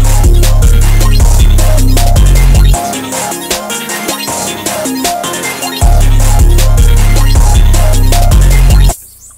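A trap beat produced in FL Studio with a Serum preset melody, loud and dense with heavy booming bass that drops out midway, then returns before cutting off abruptly near the end.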